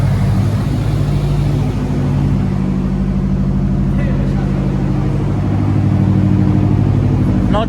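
A Subaru Forester wide-body with a newly installed catted downpipe idles steadily up close, a low, even engine rumble that stays fairly quiet and constant throughout.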